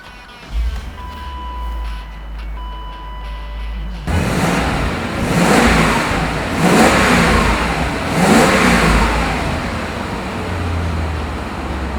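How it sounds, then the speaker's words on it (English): A 1994 BMW 840CI cranks briefly and catches, then settles into a rumbling idle before several loud, close revs that swell and fall in repeated bursts, with no voices over it. "so how about I start it for you and you can hear how it sounds"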